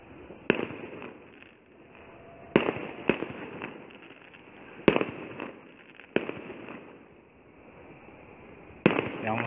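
Fireworks burst close by on New Year's Eve in Pınarbaşı, İzmir: about six sharp, loud bangs come at irregular intervals, each followed by crackle and a hissing rumble that fills the gaps.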